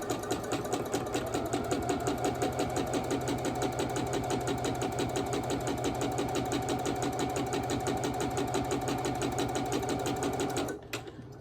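A sewing machine runs a seam along a Seam So Easy guide while piecing a quilt block, giving a fast, even, rhythmic stitching hum that holds steady and close for about ten seconds before stopping abruptly.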